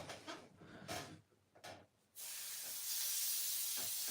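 An airbrush and compressor, used to weather a Class 40 model locomotive, burst into a loud, steady, broadband hiss midway through. Before that come faint handling noises and breaths.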